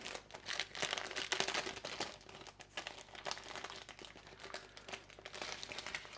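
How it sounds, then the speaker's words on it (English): Baking parchment circles cut to 18 centimetres crinkle and rustle up close, in an irregular run of dry crackles and crumpling bursts that carries on for several seconds. "these 100 baking parchment circles, exactly the right size"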